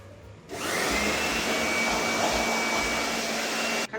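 A blower dries a freshly washed air conditioner with a steady, loud, close whoosh that starts abruptly and holds for about three seconds before cutting off. No voices are heard.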